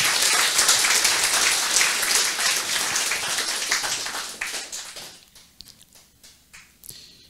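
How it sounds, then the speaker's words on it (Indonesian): Loud, dense applause from a crowd at a training course that gradually thins out into scattered individual claps. "Tepuk tangan untuk kita semua."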